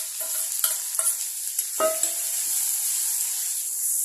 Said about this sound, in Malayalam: ചതച്ച് വെച്ചിരിക്കുന്ന ചെറിയ ഉള്ളി ഇഞ്ചി വെളുത്തുള്ളിയും കൂടി അതിൻ്റെ അകത്തോട്ട് ഇട്ട് കൊടുക്കും